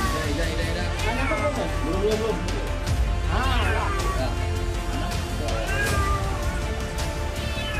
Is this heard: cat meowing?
yes